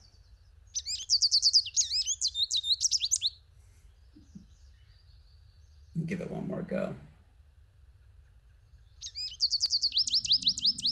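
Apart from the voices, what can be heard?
bird's nasal high-pitched call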